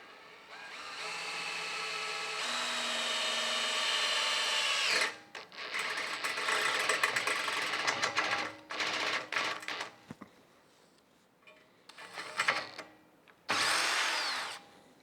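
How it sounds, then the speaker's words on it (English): A power drill spins a bit just under a quarter inch, whining loudly in long continuous runs, then in shorter stop-start bursts with pauses between. "Definitely fast drilling."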